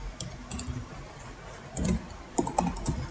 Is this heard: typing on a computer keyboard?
yes